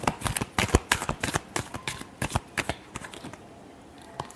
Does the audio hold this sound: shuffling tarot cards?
yes